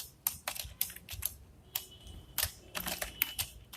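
Typing code on a computer keyboard, a quick irregular patter of close, crisp key clicks with brief pauses between bursts.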